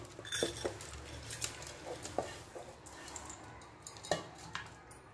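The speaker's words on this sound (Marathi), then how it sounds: "कुकरमध्ये हे गहू टाकून घेऊया" Wheat grains pour into a pressure cooker in a home kitchen, giving a soft rattling patter with scattered clinks of grain against metal, fairly close and steady throughout.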